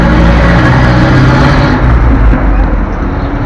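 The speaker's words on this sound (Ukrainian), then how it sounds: "Що шум, машини їдуть, маршрутки їздять." Loud, steady roar of street traffic in Ternopil, with car and minibus engines droning and vehicles rushing past close by, continuous throughout.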